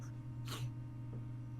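A single quick sneeze bursts out over a low, steady background hum.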